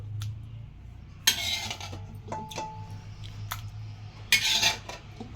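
Tomato, chilies and gourd for chutney being mashed by hand in a bowl, with a few sharp clinks and knocks of a utensil against the dish between quieter soft squishing, close up and without talk.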